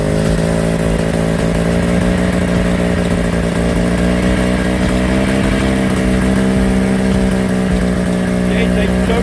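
A small aircraft engine warms up on choke on a cold morning during a preflight run, a loud, close, steady throbbing roar that holds without pause, with a voice talking over it.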